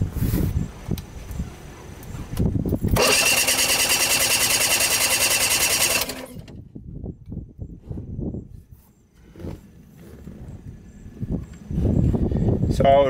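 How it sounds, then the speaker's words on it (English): A Mercury Force 40 HP outboard engine is cranked by its starter with a compression gauge fitted, giving a loud, fast, pulsing whir of about three seconds amid quieter clicks and handling knocks before and after. "And then crank the engine."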